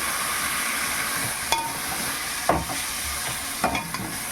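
Chicken frying in a pan with raw mango, a steady sizzle with a few scraping stirs and clinks of a utensil against the pan.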